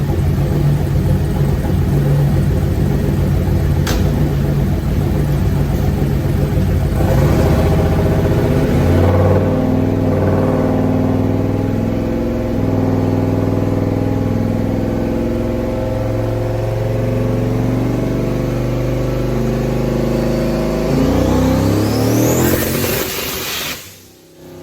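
A turbocharged car with a big turbo and small wastegate revs steadily during wastegate solenoid tuning, its loud sustained engine rumble rising and falling in pitch with one sharp rising whine near the end, and no talking.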